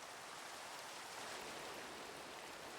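Steady, even rain in Minecraft, a soft continuous hiss with no talking.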